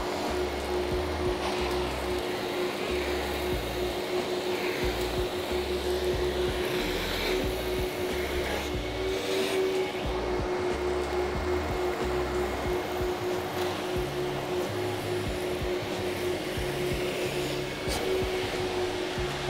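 A powerful professional vacuum cleaner runs steadily at full suction, a continuous loud whirring roar with a fixed high whine and no pauses throughout.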